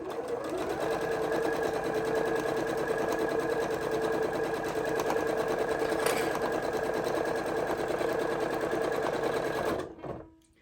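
A sewing machine stitches two pieces of fabric together for quilting, a fast, steady mechanical whir running close and continuous before stopping abruptly.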